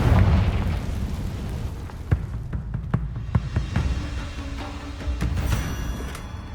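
A fiery Confringo spell explodes in Hogwarts Legacy, opening with a loud, dense blast that trails into scattered pops and crackles and a lingering rumble.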